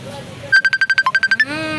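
Phone ringtone from an incoming call, a quick run of about ten rapid electronic beeps in a tight rhythm, close and clear, between brief bits of low background sound.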